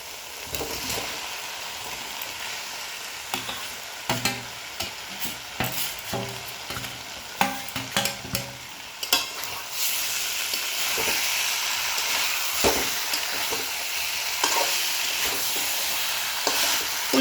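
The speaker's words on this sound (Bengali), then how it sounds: "এবার এর মধ্যে দিয়ে দিচ্ছি ভেজে রাখা ফুলকপি আর ভেজে রাখা আলুগুলো।" Fried cauliflower and potatoes sizzle in hot masala, a steady hiss broken by irregular scraping and stirring clatter, with the sizzle growing denser toward the end.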